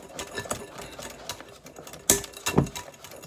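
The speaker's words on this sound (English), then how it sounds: "So I'm still whisking." Electric whisk beating meringue in a bowl, a steady close mechanical whir with a couple of sharp clattering knocks as the beaters hit the bowl.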